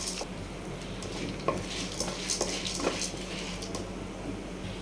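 Urad dal, chana dal and toor dal frying in hot oil for curry leaf rice give a steady, soft sizzling hiss, with a few light clicks of stirring scattered through it.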